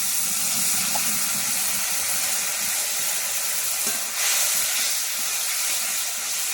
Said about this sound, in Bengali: স্বাদ মতো লবণ দিয়ে একটু জল দিয়ে মশলাটা ভালো করে কষিয়ে নেব।